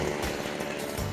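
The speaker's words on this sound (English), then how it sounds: "dozens of volunteers are out on the lake doing a whole lot of drilling" A powered ice auger grinds through frozen lake ice, boring fishing holes for an ice fishing competition in Minnesota, a loud, close, continuous motor drone with a rough churning texture.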